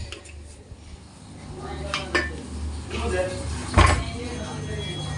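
A pressure cooker and metal pots are picked up and moved around in a village home kitchen, with clanks, clinks and one louder bang, close by, while a person talks over the handling.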